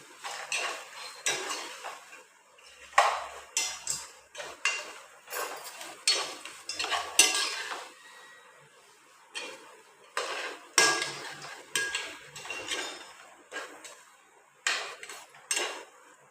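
A spoon repeatedly scrapes and clanks against a pot while stirring mushroom biryani at home, in close, irregular bursts of metallic stirring with no speech.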